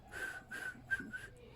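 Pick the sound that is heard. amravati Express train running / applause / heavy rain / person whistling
person whistling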